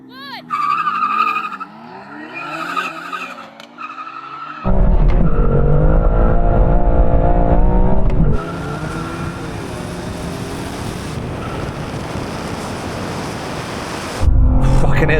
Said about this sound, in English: I can hear that M2CS just spinning up its wheels, changing from first to second.